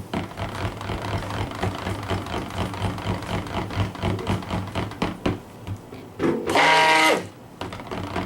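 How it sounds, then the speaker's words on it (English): Stick blender whirring as it mixes soap batter, a steady close motor hum that runs for several seconds and rises into a sharper, louder whine near the end. "I'm gonna end up using my stick blender to blend this back in"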